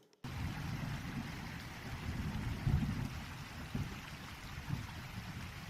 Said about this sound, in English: Now here we've got nighttime in the rain.